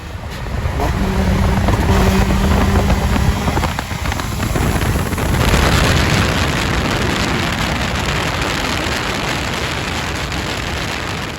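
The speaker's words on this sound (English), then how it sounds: "Even though this is completely unfair, he still downshifts and we go for it." A turbocharged Honda races a stock Scion FRS after a downshift, its engine note rising under loud, steady wind roar that continues as the run goes on.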